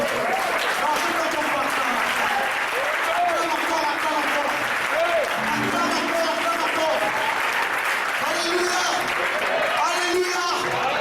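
Church congregation applauding in a dense, steady wave of clapping for the whole stretch, with cheering voices and shouts rising over it.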